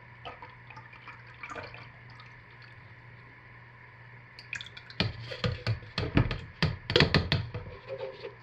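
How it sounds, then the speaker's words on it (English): Hot lye water, over 100 degrees, poured into soap-making oils: quiet at first, then a burst of close splashing, dripping and trickling liquid that grows louder over the last few seconds. "So let's put our 100 plus degree lye water in here."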